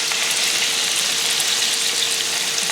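Cabbage and onion fritters sizzle steadily in a frying pan, a dense, even crackle of hot oil that stays close and unbroken throughout, with no voices.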